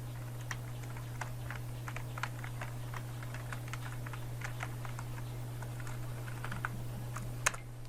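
Typing on a computer keyboard while entering a name in MS Word, rapid irregular key clicks heard close over a steady low electrical hum, with one sharper keystroke near the end and no talking.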